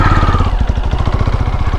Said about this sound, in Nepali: बाइकको साइलेन्सर बनाएँ हो अहिले नो साउन्ड हो यहाँ पुरा नोइज हुँदैछ